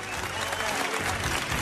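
A studio team on a live morning TV show applauds in a dense, steady burst of clapping that fills the room close up, with voices mixed in.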